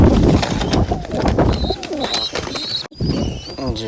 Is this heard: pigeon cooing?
yes